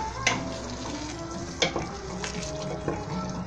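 A pot of locro de zapallo, a squash stew with potatoes, bubbles and sizzles steadily at close range, with a few louder knocks or pops breaking through the continuous simmer.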